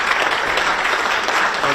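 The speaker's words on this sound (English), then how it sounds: "deserves tremendous applause" Steady audience applause at a political speech, dense and fairly loud, filling the whole stretch without a break.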